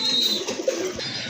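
Jacobin pigeons at a pet pigeon market coo softly in a brief low murmur, close by, over a steady background of chirping and faint ambient noise.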